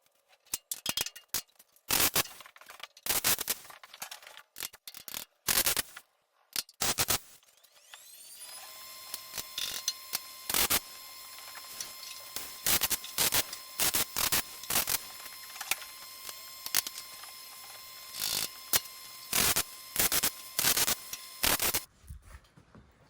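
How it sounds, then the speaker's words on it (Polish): An industrial metal balcony railing is welded with crackling bursts that start and stop in short runs, interspersed with clicks and brief pauses, with a thin steady hum underneath. "Spawam."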